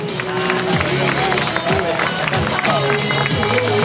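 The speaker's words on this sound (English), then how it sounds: "Let's make some noise for Star Swiveler, Jacqueline." A large crowd at a ski broncs rodeo show cheers loudly and steadily, with clapping and shouts blending into a dense roar that continues throughout.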